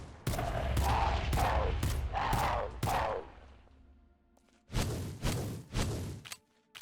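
Rapid bursts of gunfire aimed at the Hydra boss in the Minecraft CrazyCraft modpack, two loud volleys separated by a quieter pause, with no talking.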